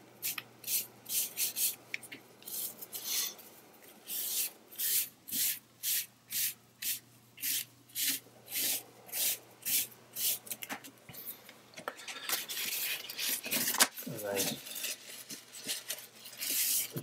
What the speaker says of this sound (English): just with that cloth, just rub it slightly, just to reveal a bit more of the picture